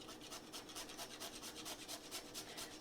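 Fresh whole nutmeg scraped against a grater for spice in banana snickerdoodle cookies: a steady, rhythmic rasping of quick strokes, close and fairly quiet, with no voices.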